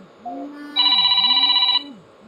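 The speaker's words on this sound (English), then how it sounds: "Whose phone is ringing?" A phone ringtone: a short electronic tone followed by a sustained warbling ring, loud and close, over a low background voice.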